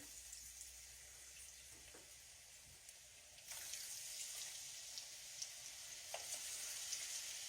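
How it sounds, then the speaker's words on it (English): Okra dropped into hot grease begins frying, a quiet steady hiss that swells louder once the pieces go in, with scattered light pops and crackles. "So take your okra, your grease is nice and hot, and drop it in."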